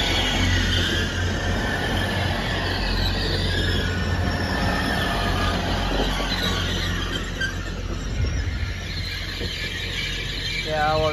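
A passenger train rolls past the Dock Hills level crossing, a loud continuous rumble of wheels on rails with squealing metal, close and steady for the whole stretch, with no voices.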